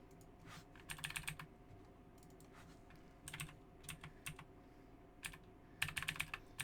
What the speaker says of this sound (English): My typing sounds fast.